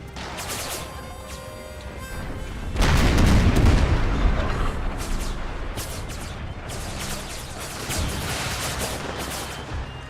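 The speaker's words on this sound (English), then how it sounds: "Howitzers fire on their artillery." Howitzer artillery fire in Empire: Total War with a Confederate-era mod, a heavy boom erupting partway through, followed by scattered distant gunfire and crashes rumbling on over the battlefield.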